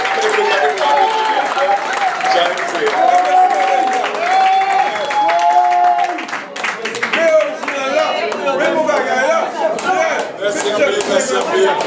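An audience applauds for the president at a public event in Haiti, a dense wash of clapping that runs the whole time while a voice speaks over it.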